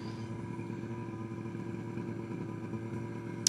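A two-stroke scooter engine droning steadily and close while the rider downshifts on a road along the Côte d'Azur, with a short sharp clack right at the end.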